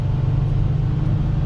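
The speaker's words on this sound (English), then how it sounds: "throttle down, power goes down to all 4 wheels at 8-speed automatic, very fast shifts" A 2019 Audi Q7 with quattro all-wheel drive and an 8-speed automatic pulls hard under throttle, giving a steady, loud low engine drone and road rumble from inside the cabin, with no voices.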